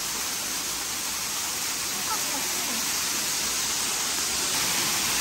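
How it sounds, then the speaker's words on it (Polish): Waterfall in Bali roars as a constant dense wash of falling water, close and loud, with a voice briefly heard beneath the noise. "Dzisiaj jesteśmy na wodospadach."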